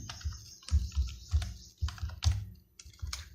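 A computer keyboard is tapped out in a short burst as a search word is typed into Canva's icon search. The key clicks come close and clear in an uneven rhythm, with no talk over them.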